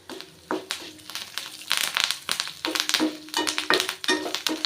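Curry leaves and ginger sizzle in a hot pan on low heat while a spatula taps and scrapes against the metal in irregular strokes, close up.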